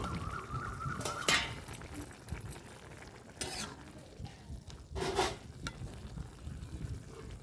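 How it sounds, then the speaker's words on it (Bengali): Potatoes fry in a pan with a steady sizzle, broken by occasional stirring scrapes and clinks of a utensil against the metal. "ঢাকনাটা খুলে এবার দেখি আলুটা ভেজে নিচ্ছি"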